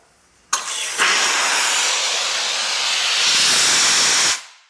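Optima XDM compact steam cleaner for car detailing releases steam as its valve opens: an abrupt, loud, steady hiss that holds for about four seconds and then cuts off sharply.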